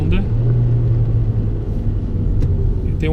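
Kia Cerato 1.6 automatic engine running steadily at low revs with a constant loud rumble while gears are shifted manually, faint changes in pitch, with a voice talking over it.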